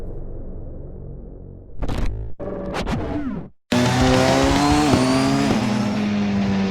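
A Porsche 919 Hybrid race car engine screams past, pitch sweeping, with a short gap before a loud, harsh sustained engine roar close by.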